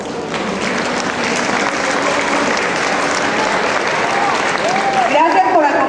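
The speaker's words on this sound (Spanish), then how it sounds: "aplauso a nuestro presidente municipal" An audience at a cultural center festival applauds the municipal president, with loud, continuous crowd clapping and a few cheers and voices rising toward the end.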